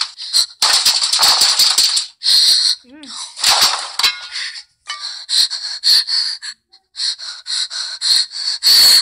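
Heavy, gasping breaths in the Friday the 13th video game, a run of loud panting and snorting bursts broken by short pauses.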